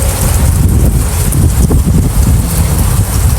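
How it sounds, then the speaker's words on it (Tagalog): Steady wind roars into the microphone outdoors on a cold, rainy morning, a constant loud rushing buffet with no voices. "Tapos windy pa, kaya mas maginaw."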